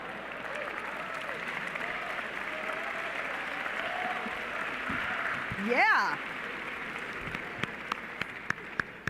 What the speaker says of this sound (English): That definitely deserves a round of applause.